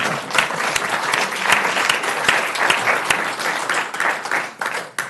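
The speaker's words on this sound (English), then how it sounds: "You can applaud." Crowd applause at a Manhattan Beach city council meeting, a sustained, loud wash of many people clapping with some sharp individual claps standing out, tapering slightly at the end.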